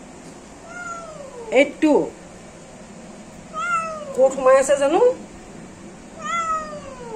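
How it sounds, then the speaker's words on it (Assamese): A house cat hidden inside a home meows several times in drawn-out calls, near and clear, between people talking. "কাৰ ঘৰ মেকুৰি নাজানো এটো শুনিছে মাতটো শুনিছে"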